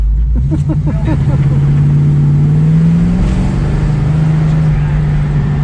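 A 1973 AMC Pierre Cardin Javelin, first driven in ten years, with its engine droning loud and close from inside the car as it accelerates, pitch rising then settling, a low rumble throughout.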